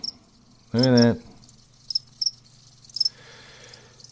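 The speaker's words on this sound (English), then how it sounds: "And the crickets." Faint, high cricket chirps pulse in short bursts behind a brief spoken remark, with quiet background hum.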